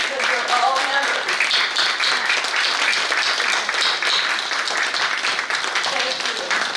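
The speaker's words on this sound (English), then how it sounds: "just stand up so we can give you a round of applause" An audience at a Hall of Fame ceremony claps for its members, a sustained round of even applause filling the room at steady volume.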